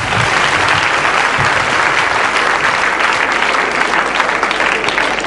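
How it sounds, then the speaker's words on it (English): A crowd applauds at a debate competition final, continuous heavy clapping at close range that stays level from start to finish. "Can we please have another round of applause for Mr. Ravi Edirisinghe"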